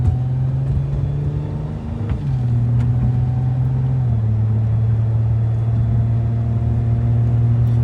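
A Nissan Altima SE with a suspected transmission fault creeps forward slowly, its engine drone holding steady and loud inside the cabin, then dropping in pitch twice as the gears shift.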